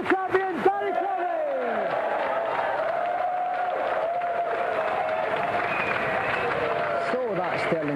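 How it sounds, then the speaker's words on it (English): A studio audience at a Sega video game show cheers and applauds the European champion, a dense steady roar of clapping under music, with a host's voice heard briefly. "Another round of applause for the European Sega champion"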